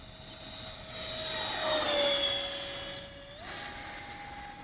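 An E-flite F-15 64mm electric ducted fan model jet whines overhead in flight, a steady high-pitched tone that swells as it passes close, dips lower, then rises sharply as the throttle changes, with no talk.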